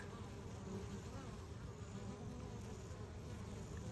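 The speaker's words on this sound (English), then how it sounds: "here comes a big bumblebee cruising in" A bumblebee buzzes in a low, steady drone, faint and somewhat distant against quiet outdoor background, with no voices.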